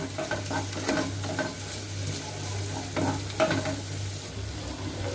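Water spinach (kalmi greens) lightly frying in a pan, a steady soft sizzle broken by a few clattering stirs of a spatula, close and continuous, with no talk.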